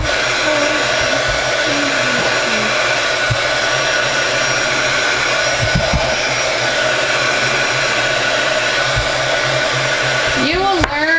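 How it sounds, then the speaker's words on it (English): A heat gun blows a loud, steady whooshing roar while shrinking plastic wrap around a bar of soap, running continuously up close with faint crinkles of film underneath. "The longer your heat gun is on, the warmer it gets, the faster it shrinks."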